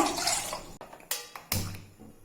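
Water is poured from a cup into a cooking pot for sweet puffed-rice balls, a splashy pour at first that soon breaks into a few short sloshes and a fading, close-up trickle.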